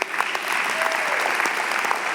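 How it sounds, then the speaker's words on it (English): A church congregation claps together on request during a Sunday morning service, a steady, even wash of many hands filling the room for a couple of seconds. "Get a hand clap just to see if you're awake."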